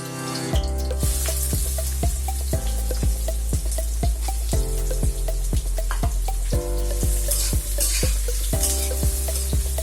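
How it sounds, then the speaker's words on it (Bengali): Chopped onions fry in a pan for kichuri alongside cloves, with a steady sizzle under rhythmic scraping and stirring strokes that land about twice a second throughout. "পেঁয়াজটাকে একটু ভেজে নিব আমি"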